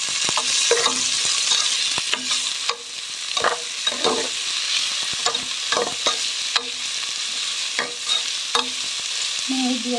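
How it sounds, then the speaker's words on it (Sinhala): Salt being stirred and fried in a pan for majboos rice, a continuous close sizzle with repeated scraping strokes of the spoon at an irregular pace, no talking. "මේ විදියට ලුණු ටික බදිනකම් ඔයගොල්ලෝ බැද ගන්න."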